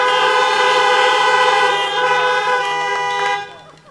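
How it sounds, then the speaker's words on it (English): Many car horns honk together at a drive-in Christmas carol service in a Lyme Regis car park, a loud sustained chorus of overlapping toots that thins out and fades at the end. "please honk your horn for the Lyme Regis Town Council and Councillors."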